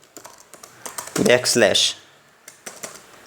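Keys clack on a computer keyboard in quick bursts of light taps, with someone speaking briefly over the middle of the typing.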